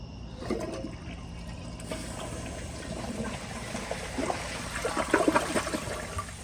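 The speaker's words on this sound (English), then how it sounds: "Here is a flush." A 2004 Kohler Highline Ingenium toilet flushes a small blue rag, giving a steady rush of water with gurgling and trickling that builds toward the end, heard fairly close with no talking.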